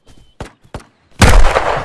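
Three sharp, close .44 Magnum revolver shots from Ghost of Tabor fire in an uneven rhythm, then a louder, sustained blast of gunfire and noise, with no voices.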